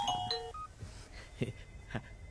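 A mobile phone rings with a few short electronic tones at the start, followed by scattered faint knocks and rustles in a quiet room.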